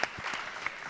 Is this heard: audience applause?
yes